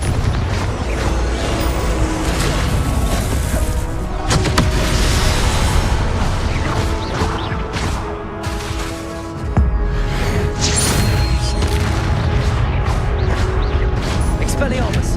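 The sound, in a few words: Confringo blasting spell explosions in Hogwarts Legacy video game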